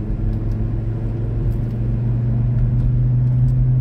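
A steady, loud car engine hums and rumbles continuously at a race track day, holding a sustained low drone as the car speeds along with fast cars behind.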